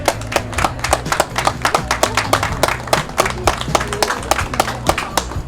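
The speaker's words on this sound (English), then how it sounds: "Round of applause, please." Audience clapping at a car show award for a 1953 Jaguar XK120 owner, a close, steady patter of many hands with sharp, even claps that carry throughout with no voices over them.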